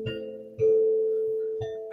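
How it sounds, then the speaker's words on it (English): A music box plays a chime: a few soft plucked notes, with one steady tone ringing on between them, fairly quiet and alone. "there's a music box that plays the same chime"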